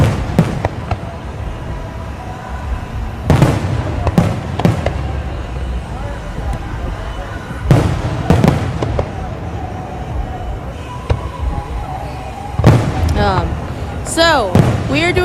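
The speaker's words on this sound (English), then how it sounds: "I'm recording the fireworks via YouTube, and I'm going to post this on the channel afterwards." Fireworks going off during a show, with sharp bursts and crackling pops recurring every few seconds over steady crowd chatter and background noise.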